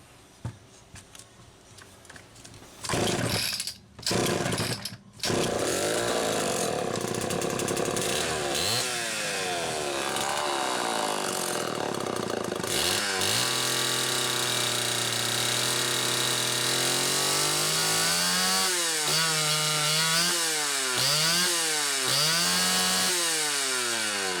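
A Homelite Super XL chainsaw with a suspected carburetion fault is pulled a few times, then catches and runs loudly. Its engine surges up and down unevenly before settling into a lower, wavering idle.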